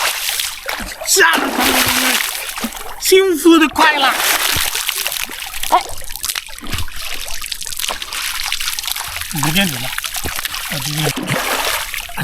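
Water splashes and sloshes continuously, with bursts of trickling, as someone washes in cold water at a forest campsite, while music plays loudly over it.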